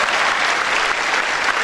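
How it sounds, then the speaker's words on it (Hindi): Loud, dense applause from a room full of students at a motivational class session in Patna, a steady wash of many hands clapping at once with no voices on top. "जोरदार तालियां एक बार के लिए भी"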